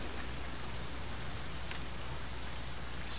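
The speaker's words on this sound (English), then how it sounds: "So, I think I'm actually going to try to wait out this rain." Steady rain falls in The Flame in the Flood video game, an even, hissing wash of drops that holds at a constant level throughout with no voice over it.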